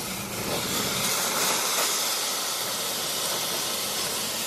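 Seared meat sizzling loudly in a hot pan as it is flipped, a steady close hiss of spitting fat that swells briefly mid-flip and holds on without pause.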